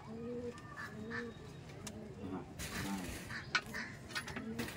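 Pigeons at a Bangladeshi teddy pigeon market, soft low cooing phrases repeating close by amid a busy background of other birds and faint chatter.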